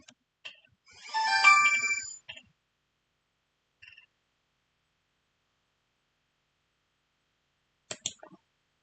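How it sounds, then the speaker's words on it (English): A mobile phone ringtone plays alone in a quiet room: one bright melodic burst of about a second, then a few short faint chirps and a final brief cluster of tones. "My phone is going off right now."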